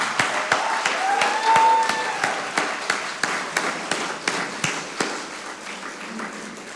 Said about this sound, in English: Would you please give yourself a big clap?